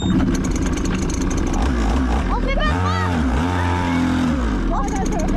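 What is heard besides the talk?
YCF motorcycle engine revving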